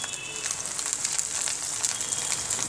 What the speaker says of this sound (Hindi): यह हमारा घी गरम हो गया है, अब हम एक एक करके पीसेस डालते जाएंगे